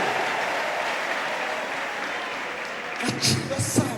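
A church congregation applauds at a pastor's call to praise God, a dense, steady wash of clapping that fills the room from start to finish, with a few louder bursts and some voices rising near the end.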